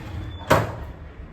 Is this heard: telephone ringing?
no